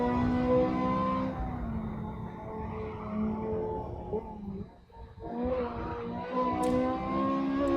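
A Ferrari F355 in the Assetto Corsa racing game rolls through a corner at Cadwell Park in fourth gear, its engine note a steady, loud harmonic drone that dips briefly mid-way and then builds again.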